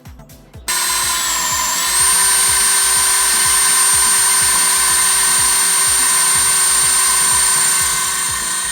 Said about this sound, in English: So I'm gonna drill holes in them.